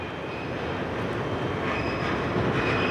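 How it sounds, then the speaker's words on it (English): A CSX reefer freight train with a Southern Pacific-painted HLCX SD40R locomotive rolls past, giving a steady, loud rumble of wheels on rail with faint high squeal tones over the top. "came on the reefer train"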